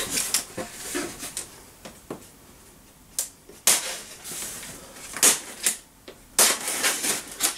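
Cardboard packaging around a statue is pulled open, with rustling, scraping and sharp crinkling bursts arriving in irregular clusters, close and moderately loud, with no talking.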